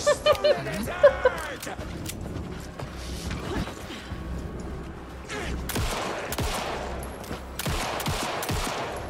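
Bursts of gunfire in a video game, scattered shots and rapid volleys mixed with mechanical clatter, all under lively talk and laughter from several people.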